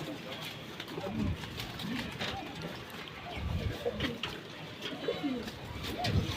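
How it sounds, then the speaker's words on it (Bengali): Pigeons, including an old khaki pigeon in a home loft, give low soft cooing calls repeated at intervals under a man's ongoing speech, fairly faint against background noise. "একটা খাকি কবুতর অনেক আগের আমার বাসার অনেক পুরান কবুতর এটা"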